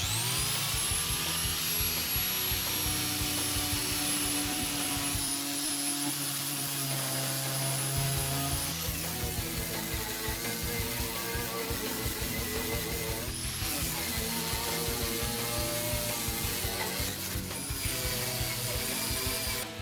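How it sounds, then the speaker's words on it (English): A knotted wire wheel on a power tool grinds rust off the bare metal interior of a 2002 Ford E350 van, a loud, steady, harsh whine running without pause, with a brief dip near the middle. "I got a knotted wire wheel and I'm gonna hit these rusty areas"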